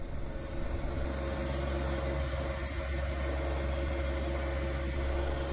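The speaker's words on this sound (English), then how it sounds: "I'm gonna get the tractor out now and get going" A tractor engine idles at a steady mid-pitched hum with a constant droning tone and faint vibration, running evenly without change for a few seconds, no talking over it.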